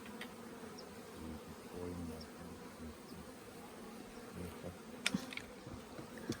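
Honeybees buzz in a steady low hum around their hive, soft and continuous, with a few faint clicks and knocks near the end.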